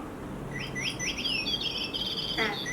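A baby mobile toy clipped to an Aprica Nelccobed Twin twin stroller plays electronic bird-like chirps, a run of quick tweets repeating over a few seconds with a faint background hum.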